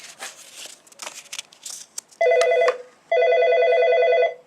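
A telephone bell rings in two long bursts, loud and close, after a stretch of rustling and crinkling handling noise.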